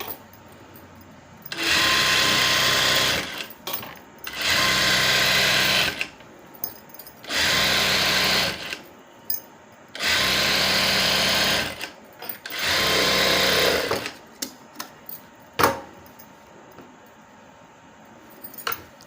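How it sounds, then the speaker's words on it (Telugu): A domestic sewing machine stitches invisible piping onto fabric in five bursts of about two seconds each, with short pauses and handling clicks between runs. "ఒక పాదం అంత వెడల్పుతో ఈ ఖర్చు మీద కుట్టు వేసుకోవాలి ఇలా"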